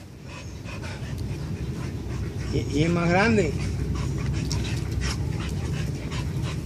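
A male dog pants steadily close by, with a brief whining whimper partway through, while someone speaks Spanish over it.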